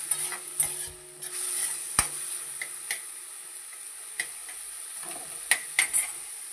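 Fenugreek greens frying with onion and chili in a little oil, a soft, faint sizzle under sporadic sharp clicks and taps of a spoon stirring against the pan.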